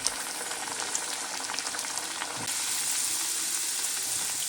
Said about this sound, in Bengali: এবার আমি কচুরিগুলো ছেড়ে দেবো তেলের মধ্যে।